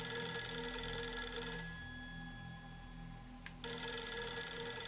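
A telephone rings in the video game Project Zero 3 / Fatal Frame 3, a steady electronic bell tone that repeats with one short pause, clear and alone with no talk.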